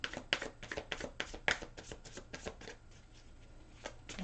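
Brisk riffling and tapping of a tarot deck being shuffled up close, a rapid run of soft slaps that eases off toward the end.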